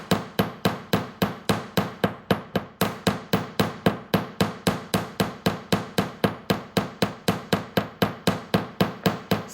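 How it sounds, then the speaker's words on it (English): A hammer strikes wire again and again to flare out a gentle wire-wrapped bend for a butterfly necklace bar, roughly four sharp metallic taps per second in an even, unbroken rhythm, close and alone. "I keep hitting that with my hammer"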